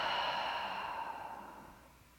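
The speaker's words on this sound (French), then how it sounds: "Ouvre la bouche et expire complètement." A person breathes out fully through an open mouth during a guided breathing exercise, a single long, soft, airy exhale that slowly fades over about two seconds.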